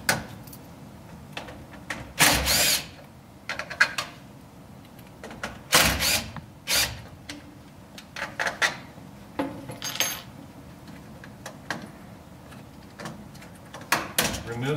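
Screws being removed from a terminal board in a centralized lighting control panel, heard as scattered sharp metallic clicks and clatters with irregular bursts against a quiet background hum.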